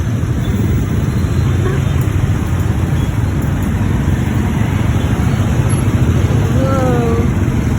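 Heavy traffic at a busy intersection in Dumaguete, a dense continuous rumble of car and motorcycle engines close by, with a brief horn toot near the end and people chatting faintly over the noise.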